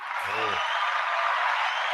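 Applause rises after a short spoken word and holds as a dense, steady wash of clapping, fairly loud and even.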